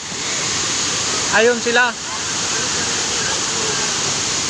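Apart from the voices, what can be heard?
Ngardmau Falls waterfall in Palau, people bathing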